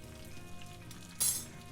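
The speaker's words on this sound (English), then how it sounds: "Just waiting for that butter to get nice and melted." Butter melts in a pan with a soft, low crackling sizzle, faint and close, and a brief brighter hiss burst near the end.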